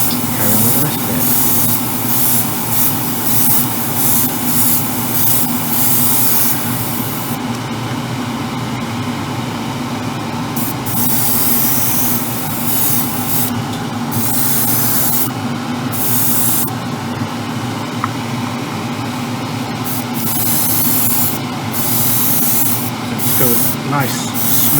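A spray gun hisses in a steady, close, continuous rush as paint goes onto the bodywork of a Ferrari 812 Superfast scale model, with brief breaks in the spray near the end.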